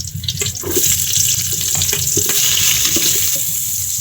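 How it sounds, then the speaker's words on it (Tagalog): Garlic and onion hit hot oil in a pan for seafood sinigang, setting off a loud, steady hiss of frying that stays close and continuous, with a few clinks of stirring and no voices. "meron na ako ditong mainit na mantika at umpisa na nating maggisa. Unahin ang bawang, sibuyas,"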